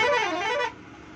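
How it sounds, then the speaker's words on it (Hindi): A loud, bright vehicle horn blares for most of a second, then cuts off abruptly, leaving low road and engine noise behind. "लाजवाब हॉर्न है।"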